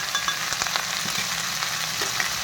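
Beans and tomato fry in a pan while being stirred, a dense steady sizzle broken by brief clicks and scrapes of the spoon, close and moderately loud.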